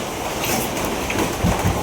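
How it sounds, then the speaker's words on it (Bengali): Heavy rain pouring down, a dense steady hiss of drops filling the air close by, continuous and loud with no voices. "এটা বৃষ্টির মধ্যেই চললাম দোকানে বৃষ্টি আছে"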